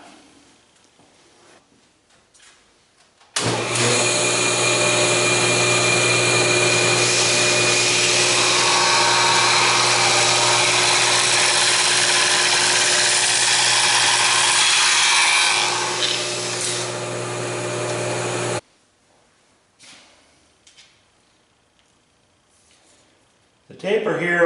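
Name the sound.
barrel taper tool on table saw tapering a shaft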